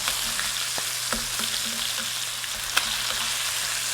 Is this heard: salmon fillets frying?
yes